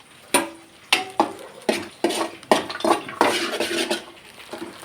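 Cashews and raisins frying in ghee in a pan on a low stove flame, with a series of sharp metallic scrapes and clinks from a spoon against the pan, repeated at an uneven pace, close and fairly loud, without talk.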